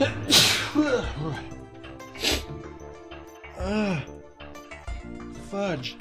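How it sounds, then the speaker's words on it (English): Two sharp, explosive sneezes burst out close to the microphone, with a person speaking briefly between and after them. "I'm gonna sneeze again."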